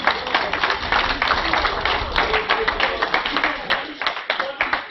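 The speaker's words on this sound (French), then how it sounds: "on peut applaudir les trois danseurs plus fort que ça." Audience clapping for three b-boys at a breakdance battle, a brisk scattered patter of hands that continues throughout while an announcer talks over it.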